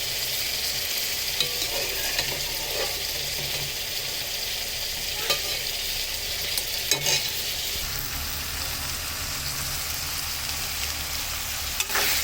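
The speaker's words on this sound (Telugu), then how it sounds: "ముక్కలు వేసుకొని మొత్తం అయితే కలుపుతున్నాను. ఇది మంచిగా ఫ్రై అయ్యే వరకు ఇలాగే కలుపుతూ ఉండాలి." Soaked dried fish pieces fry in a pan and are stirred continuously, producing a loud, even sizzle with occasional scraping clicks from the spoon throughout.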